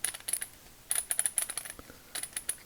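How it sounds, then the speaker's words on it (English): A vintage Proto 5247 3/8-inch drive ratchet adapter ratchets in quick bursts of dry, clicking pawl ticks, three clustered runs of rapid clicks up close with short pauses between, no voices over it. "Surprisingly, it's still ratcheting, but it's not gonna hold any torque."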